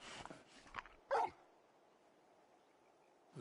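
A dog in the video game Final Fantasy 16 lets out a few short whimpers and yips, then goes quiet before another brief sound at the end.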